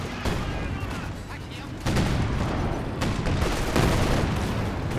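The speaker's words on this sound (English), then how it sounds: "Spamming grenades." Continuous dense battlefield din from the strategy game Company of Heroes 2, with grenade blasts and rattling gunfire layered into a loud steady wash, several heavier bursts standing out.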